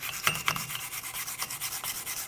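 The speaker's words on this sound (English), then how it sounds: "I'm just going to go in with a wire brush and clean it up." A wire brush scrubs the wheel hub of a 2007-2014 Chevrolet Silverado 2500 HD, giving quick, rhythmic scratchy strokes, close and fairly loud, with no talking.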